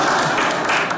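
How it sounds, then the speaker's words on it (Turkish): A studio audience at a Turkish sketch comedy show claps steadily for a second, a dense, even patter of hands filling the room. "Alkışlayın burada."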